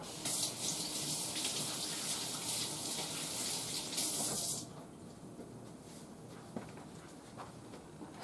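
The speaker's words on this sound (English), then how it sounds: "wash hands" Tap water gushes steadily into a sink while hands are washed, close and fairly loud for about four and a half seconds, then cuts off, leaving quiet room sound and a faint clatter.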